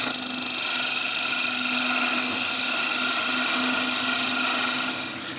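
A wood lathe shapes the head of a wooden nutcracker, a steady close whine with a sustained hum running unbroken before easing off at the end.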